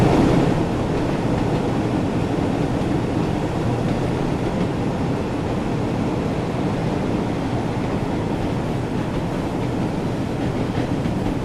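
A train engine in the game Train Sim World 6 gives a steady, loud, continuous rumble with a dense roar and faint rhythmic rail noise. No one speaks.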